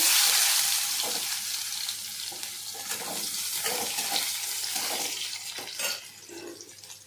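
Chopped onion hits hot oil tempered with nigella seeds and dried red chili, giving a loud initial sizzle that settles into a softer crackle with scattered scraping and clinks of stirring.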